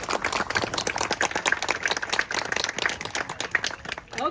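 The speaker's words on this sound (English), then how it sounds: "So can we give Kristen a round of applause for the amazing work she does for our neighborhood?" A crowd claps at an outdoor Pride event in a neighborhood, with dense, steady applause from many hands throughout.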